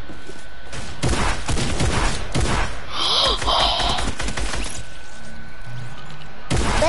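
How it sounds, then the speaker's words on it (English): Boogie bomb detonating in Fortnite amid dense, rapid game gunfire and thuds, with a brief bright burst of effects in the middle before the shooting continues steadily. "What a boogie bomb!"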